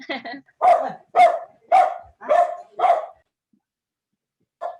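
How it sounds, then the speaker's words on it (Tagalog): A dog barks six times in a quick, steady run, fairly close and loud, then lets out one more short bark after a pause. "Maingay yung aso."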